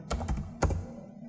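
A few quick keystrokes on a computer keyboard while writing Python code, three or four close taps in a short burst followed by a pause, near and crisp.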